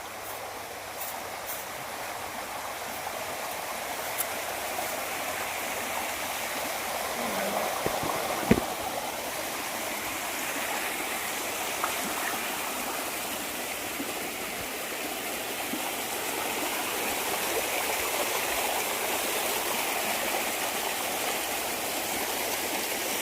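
A stream flows past a farm in a steady, continuous broadband rush that fills the whole stretch, with one brief knock partway through and no voices.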